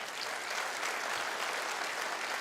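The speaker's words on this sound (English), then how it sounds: "Let's give ourselves a big round of applause." An audience at a large gathering claps in sustained, even applause, a dense wash of many hands at steady moderate loudness with no pauses and no talking.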